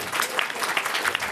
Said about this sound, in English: So we'll round of applause for these 2 guys.